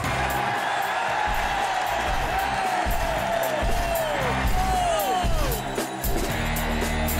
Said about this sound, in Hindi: हमारे पहले विरोधी डैशर के लिए तालियां।